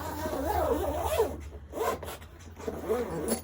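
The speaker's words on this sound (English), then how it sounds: "zip goes up, and that's going nowhere at all" A zipper runs along a ripstop nylon gig bag for an electric guitar, in several quick rasping strokes separated by short pauses, close and clear with no speech.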